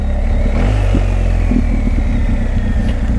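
A BMW R1250GS Adventure motorcycle idles loudly nearby with its Akrapovic exhaust DB-killer removed, a lumpy, uneven rhythm punctuated by several sharp exhaust pops and crackles.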